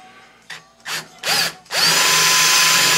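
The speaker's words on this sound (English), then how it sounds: "drill a clearance hole in it" A power drill bores a clearance hole in a side panel of a Piper Supercub Widebody, with three short, close bursts that whine up to speed, then one sustained loud run, with no speech.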